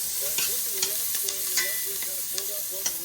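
Onions, shallots and garlic sautéing in a pan, sweating rather than crisping, with a steady soft sizzle broken by light scraping stirs; faint voiced tones sit low under the frying.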